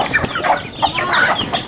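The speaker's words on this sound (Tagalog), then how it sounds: "Ayan, ang manok ko." Chickens on a farm cluck busily in a steady stream of short calls while they are fed, close by, with no clear talk.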